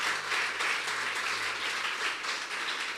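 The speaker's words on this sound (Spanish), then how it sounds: "Démosle un fuerte aplauso al Señor." A church congregation claps together in steady, dense applause for about three seconds, a broad wash of hand claps filling the room at even loudness, with no voices standing out.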